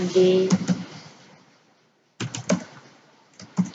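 Fingers tap on a computer keyboard in short bursts of clicks, pausing for over a second before resuming, close and fairly quiet with a faint voice heard at the start.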